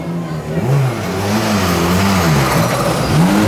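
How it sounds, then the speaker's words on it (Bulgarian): A Skoda Fabia R5 rally car revs its engine at a rally ceremonial start in Bulgaria, loud and close, the pitch repeatedly rising and falling against crowd and PA ambience. "Огур Сойлу Арас Инчер, Шкода Фабия R5. В същия клас, в същия автомобил"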